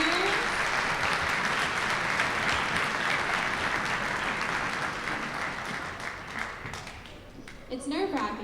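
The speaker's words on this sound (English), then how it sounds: "round of applause for our sleigh bell ringers." Applause at an eighth-grade school winter concert for the sleigh bell ringers, a loud, continuous wash of clapping from a large audience that thins slightly toward the end, with a voice starting to speak as it dies away.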